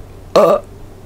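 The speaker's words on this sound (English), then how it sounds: "I didn't half-ass my quality burp" A single short, loud burp, close up and voiced, lasting about a quarter second against a quiet background.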